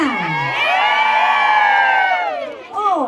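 At a Thai temple fair, a large crowd cheers and whoops together in one sustained loud swell, voices rising and holding before dropping off, then a fresh shout begins.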